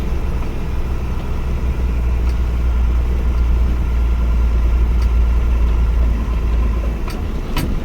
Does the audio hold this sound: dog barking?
no